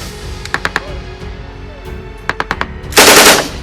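A mounted machine gun fires during a U.S. Marines live-fire exercise: two short bursts of about three or four sharp reports each, then a louder, longer burst of fire near the end, close and forceful against an outdoor rumble.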